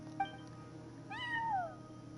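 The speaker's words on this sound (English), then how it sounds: "No one except for a cat watching over the front desk." A cat in the video game Genshin Impact gives a single clear meow that rises and then falls over a low, steady background drone. Close, moderately loud, and alone.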